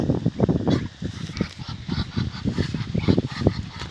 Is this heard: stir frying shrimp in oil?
no